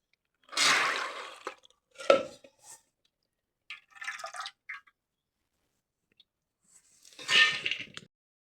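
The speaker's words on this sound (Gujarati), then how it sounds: "તમે જોઈ શકો છો કે આપણે પાણી કાઢી લઈએ છીએ" Water draining off soaked chickpeas, coming as several separate splashing, trickling bursts with pauses between them, near and moderately loud, with no talking.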